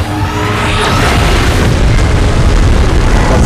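A heavy movie-style beam blast explosion from a Godzilla monster fight, a loud sustained roaring boom that fills the whole stretch with dense rumbling and crackle, no talk over it.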